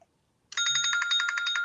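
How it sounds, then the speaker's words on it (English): A telephone rings loudly and alone, a steady, rapidly pulsing electronic trill that starts abruptly and continues without a break. "That, that's what I get for not turning the phone off."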